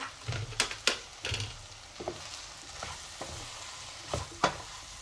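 Cubed brinjal and potato with pre-fried soybean chunks are stirred in a hot pan of spicy curry. A steady sizzle runs under several sharp clattering scrapes from the spoon at irregular intervals, close and fairly loud.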